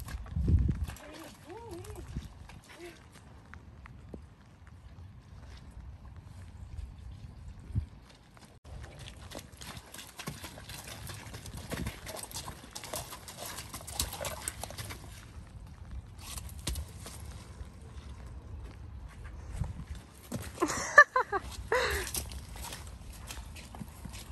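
Hooves clip-clopping slowly on a hard surface, walking at an uneven pace, with people talking nearby over the steps.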